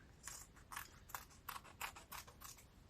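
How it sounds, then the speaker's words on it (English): Cheap dollar store scissors snip through soft cotton cloth to make small patches, about ten crisp cuts in a steady rhythm, close and clear with no talking. "I cut a couple small patches"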